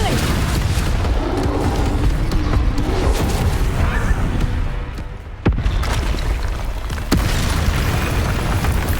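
Bombarda spell explosions in the video game Hogwarts Legacy boom loudly and continuously amid heavy battle noise, with a brief dip before another burst.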